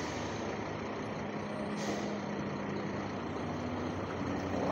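A large 14-wheel Eicher truck idles and rumbles steadily nearby on rain-wet ground, with a short hiss of air brakes partway through as it slowly backs up.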